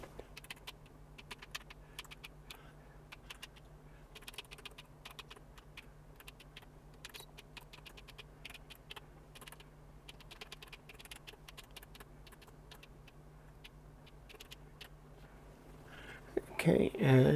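Keys on a homemade Commodore PET keyboard are tapped steadily one after another, soft close clicks with a faint hum beneath, and a voice whispers quietly at times.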